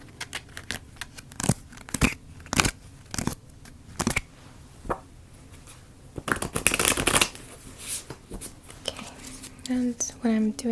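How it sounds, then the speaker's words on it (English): A deck of tarot cards being shuffled up close in an ASMR setting, with repeated crisp riffling bursts and soft slides, interspersed with quiet handling noises and a faint voice near the end. "after I've shuffled the cards"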